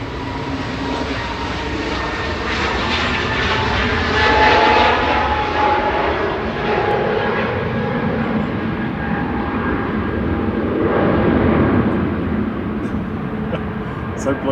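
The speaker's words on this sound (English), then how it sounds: "EasyJet on the roll to Lanzarote, flight 2029." An EasyJet Airbus A320neo rolls for takeoff on a runway at Manchester Airport, its jet engines producing a loud, sustained roar that swells and stays strong throughout, heard from a distance with a person talking over it.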